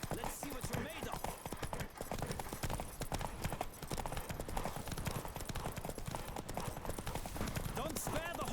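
Fast, loud hoofbeats from a horse racing at full gallop in the video game Witcher 3 drum continuously up close, with game voices talking over the thundering rhythm.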